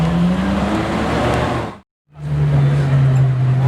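A Ferrari F12 sweeps past close by, its loud engine note building, cutting out briefly and returning with a deep steady drone as it pulls away, with another car following behind it.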